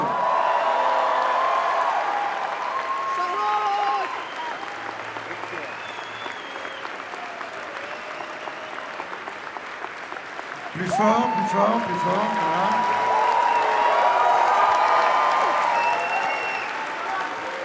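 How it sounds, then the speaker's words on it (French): Steady applause from an audience on the red-carpet steps at the Cannes festival as Charlotte Gainsbourg is introduced, filling the whole stretch, with a voice calling out over it and a louder swell near the end. "Je voudrais maintenant que vous accueillez et applaudissez Mademoiselle Charlotte Gainsbourg"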